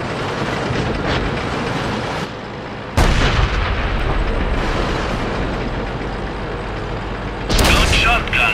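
A tank cannon fires in the World of Tanks video game: a sharp, loud blast near the middle and another heavy burst near the end, over a steady rumbling engine and clattering tracks, with players talking over it.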